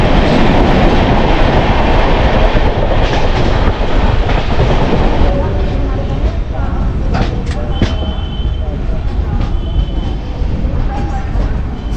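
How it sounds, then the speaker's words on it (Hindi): The Gorakhpur–Kolkata Purvanchal Express rolls into Samastipur Junction at dusk with a loud, continuous rumble of wheels and carriages and rhythmic rail clatter. Brief tonal squeals and clicks rise near the end of the approach. "समस्तीपुर जंक्शन अपनी ट्रेन पहुंच रही है।"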